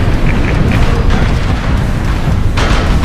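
An airstrike in MechWarrior Online, in a light-mech match with a Raven 3L, sounds as loud, continuous booming and rumbling explosions with dense low-end blasts and a sharper burst near the end, and no talk.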